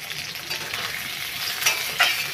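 Salted onions fry and get stirred in a pan, giving a steady bright sizzle with a couple of sharper scraping stir strokes near the end, close and moderately loud, with no talking.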